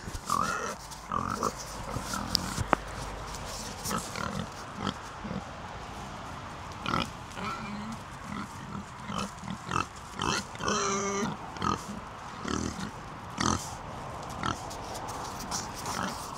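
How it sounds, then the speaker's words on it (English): Pigs grunt, oink and snort continuously at close range amid shuffling and rustling, with irregular snuffling bursts throughout. "Oink, oink."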